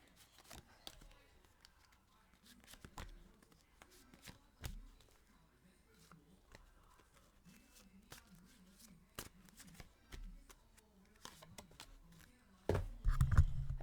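Three decks of tarot-style cards being shuffled, a soft papery riffling and clacking that runs intermittently through the quiet room, with a louder burst of handling near the end.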